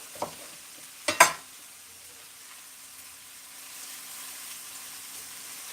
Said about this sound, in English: And I'm going to get my mushroom sauteing.